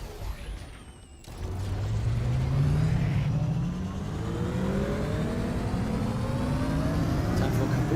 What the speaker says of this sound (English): Fucking motorbike sounds.